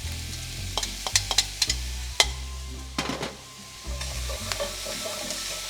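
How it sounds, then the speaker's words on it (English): Lobster meat lands in a hot pan with golden-browned garlic and sizzles steadily, with scattered stirring clinks and scrapes close by. "Now I'm going to add my lobster meat"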